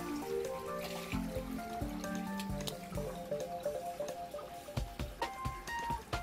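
A water sample is poured out of its container, then the container is rinsed, giving splashing, dripping and filling sounds with some clinks, fairly close and steady.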